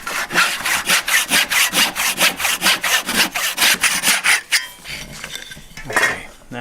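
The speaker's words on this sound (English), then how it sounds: "Hold that in place so it doesn't wiggle around when I'm sawing." A hand saw cuts wood for a half lap miter joint in steady, close back-and-forth strokes, about a dozen and a half in a row, before stopping for a few light knocks and clinks.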